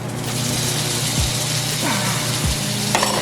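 Food frying in an oiled pan, a steady loud broadband sizzle throughout, with a few low descending tones passing under it.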